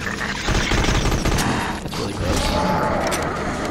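Dense rapid gunfire in the video game Dredd Vs. Death during the final boss fight against Judge Death, a loud continuous barrage of shots with booming impacts and no break in the noise.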